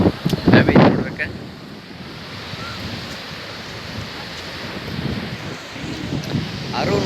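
Sea surf surges and washes at the spot where a river meets the sea on Kovalam beach near Chennai, with a louder break at the start, steady wash after and wind buffeting the microphone.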